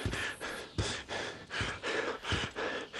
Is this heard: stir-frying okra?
no